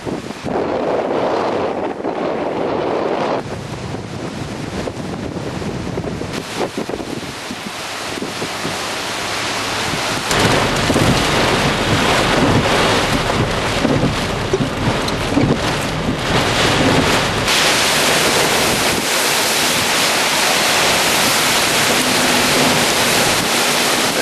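Roaring storm wind from the center of strengthening Hurricane Fay, 2008, buffets the microphone continuously near a boat ramp, with heavy rain and surging gusts that grow louder partway through; no voices.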